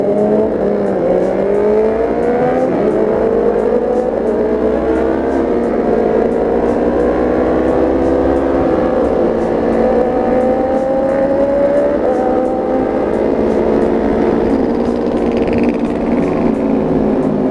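Kawasaki ZX25R motorcycle with an R9 underbelly exhaust, quick shifter and auto blipper, roaring loud and close with a high-pitched four-cylinder wail rising through the revs, sustained throughout.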